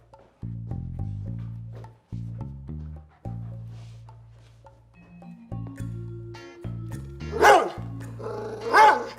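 A dog gives a series of deep barks and low growls in short bursts, close and loud, ending with a couple of sharper louder cries.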